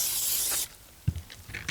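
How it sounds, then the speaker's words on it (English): Spray hisses onto shells dug from the beach in a loud, steady burst lasting about half a second, then cuts off, followed by a few faint knocks and handling clicks. "I'm going to start spraying all the shells."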